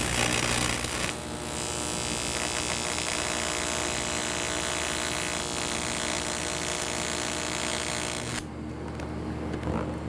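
A rotary burr grinds down a weld bead to smooth it, producing a loud, steady high-pitched whine that runs continuously for about eight seconds before cutting off, leaving a lower hum.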